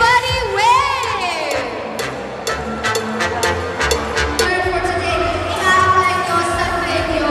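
A crowd of attendees at a vlogger camp in Davao cheers and shouts loudly and continuously, with some high-pitched voices, while a person talks over the noise.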